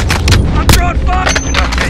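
Gunfire in a Call of Duty: Modern Warfare deathmatch, several sharp rifle bursts cracking close and loud amid game radio chatter and clanks.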